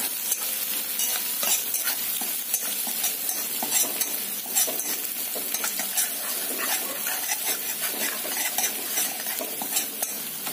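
Garlic and chillies sauté in hot oil, a steady close sizzle broken by repeated scrapes and stirs of a spoon against the pan, with no talking.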